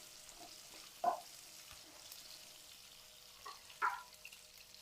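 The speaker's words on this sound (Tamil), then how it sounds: "நல்ல வெங்காயம் வதங்கி வரட்டும்." Shallots frying in a pan for a Tamil pepper kuzhambu: a low steady sizzle with two louder stirring scrapes, one near the start and another toward the end, heard close with no talking.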